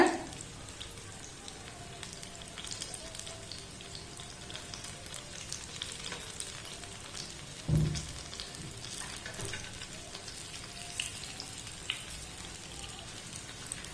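Banana pieces frying in hot oil in a pan, a soft continuous sizzle and crackle with one brief clunk midway; no talking over it.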